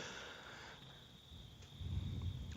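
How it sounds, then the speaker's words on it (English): Crickets chirp in a nighttime Minecraft modpack scene, a faint, steady high trill sitting low in the mix with soft rumbling underneath. "I hear those crickets chirping."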